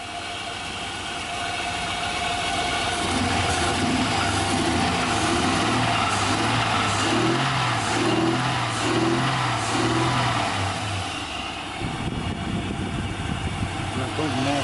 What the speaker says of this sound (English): Well, it runs, Jonathan.